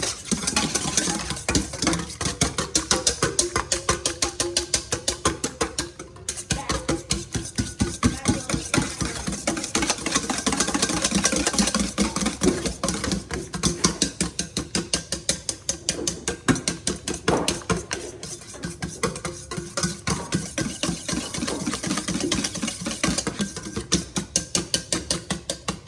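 Egg white whisked by hand for pumpkin spice candied pecans, a fast steady rattle of whisk against bowl running continuously and loud with a brief pause, no talking.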